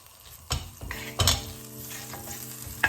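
Butter melting in a frying pan set over high heat, a soft hiss broken by a few clinks of utensil against the pan, close and moderate in level, with no one speaking.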